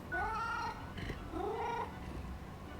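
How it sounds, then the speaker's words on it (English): A cat in the Death and Taxes video game gives two drawn-out meows with a rough purring undertone, fairly quiet and close, separated by a brief pause. "Sounds like a happy cat, much like their dad."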